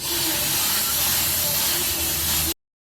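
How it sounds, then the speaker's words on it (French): MSC sealant sprays onto a Pullip doll in one loud, steady hiss lasting about two and a half seconds, then cuts off abruptly into silence. "Là je vais spray la doll avec du MSC."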